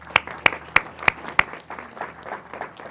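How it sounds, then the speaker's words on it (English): An audience at a city council awards event claps for a recipient: five sharp, loud claps stand out at first, then lighter scattered clapping continues with a faint murmur underneath. "Let's give her a round of applause."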